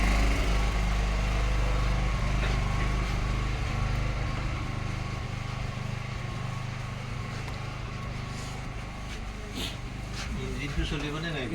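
A boat engine runs at an island landing, a loud, steady droning rumble that holds throughout with slight wavering, while people's voices murmur faintly beneath it.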